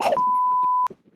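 A single steady electronic beep sounds for just under a second, clean and sustained, cutting off abruptly amid faint background murmur.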